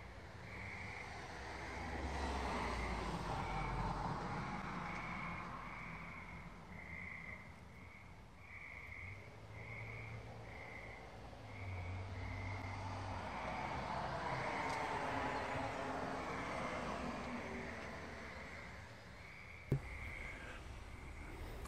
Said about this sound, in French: on entend les grenouilles, on entend de ce temps-là, c'est plutôt les crapauds, là